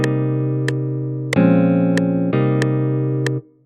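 Guitar-style chord progression played in FL Studio, four sustained synthesized chords changing at even intervals with a light ticking click on each beat, clean and close, ending abruptly.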